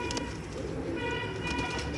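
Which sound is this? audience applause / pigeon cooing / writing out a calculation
pigeon cooing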